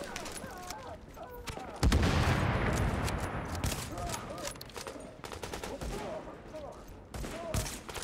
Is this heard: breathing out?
no